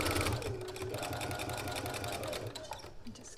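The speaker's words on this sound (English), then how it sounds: "Just continue basting that collar on all the way around." A sewing machine runs steadily while basting a collar onto a top, a close, continuous mechanical whir with a steady stitching rhythm and a brief pause near the end.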